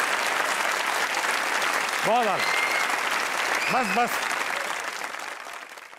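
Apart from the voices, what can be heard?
studio audience applause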